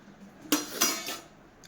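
Metal cooking utensils set onto a home stove to cook give two or three close, bright clanks in quick succession against a quiet room.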